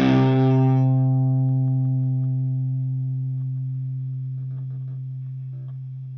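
A single distorted electric guitar chord from a Carvin California Carved Top, played through a noise gate, rings out loud and then sustains, slowly fading over several seconds with a steady, humming tail.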